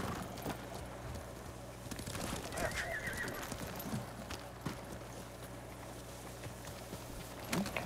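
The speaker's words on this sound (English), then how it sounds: "I was just moving that horse out of the way." A horse whinnies once, mid-pitched and fairly close, in the Ghost of Tsushima video game, over scattered hoof clip-clops and low ambient rumble, with faint speech underneath.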